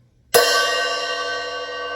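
A Zildjian cymbal on a Pearl drum kit is struck once with normal playing and left open, giving a sharp bright crash that rings on with a long shimmering sustain, close and loud.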